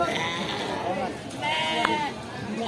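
Sheep at a livestock market bleat in long wavering calls that run almost continuously and are fairly loud, while people talk nearby.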